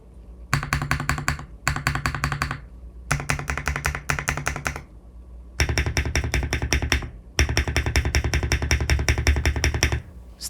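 A NuPhy Kick75 mechanical keyboard with an 8-bit game theme is typed on up close in rapid clacking bursts of several seconds each, with brief pauses between runs and no voices.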